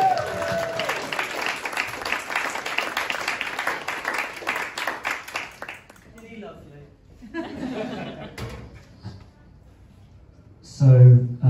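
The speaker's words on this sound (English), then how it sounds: "Clap and cheer for your final act of this section." Comedy club audience at a Swindon Old Town show clapping and cheering loudly in a dense burst of applause with scattered chuckles, tapering after about six seconds into sparse claps and murmurs, then a short loud voice near the end.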